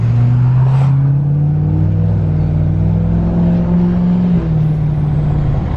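Diesel truck engine fitted with new EXERGY injectors, a loud steady drone with a low rumbling tone that climbs slightly as the truck pulls, heard up close from inside with no talking.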